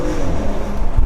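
A Porsche Macan S V6 turbo engine revs loudly and close, with a dense low roar that swells briefly near the end.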